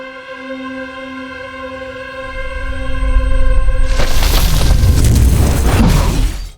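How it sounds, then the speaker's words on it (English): Bombs falling and exploding in the Fallout TV series: a steady tone gives way to a rising rumble, then a loud, sustained blast with crackling debris that fades near the end. "One day, the bombs finally began to fall."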